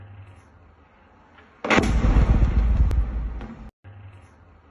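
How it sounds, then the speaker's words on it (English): A massive, booming explosion from a Russian drone attack in Poltava, Ukraine, bursts out of a low outdoor rumble, roars for about two seconds and then cuts off abruptly. "massive explosion over here in Poltava in eastern Ukraine as well"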